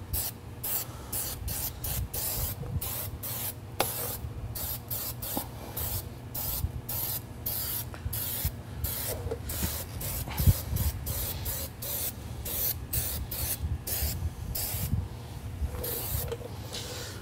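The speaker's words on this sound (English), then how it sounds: "we'll just spray it on here and" Tire shine is sprayed onto a car tire in a steady run of short, close bursts, each a sharp hiss from the nozzle with a faint mechanical click, repeating for the whole stretch.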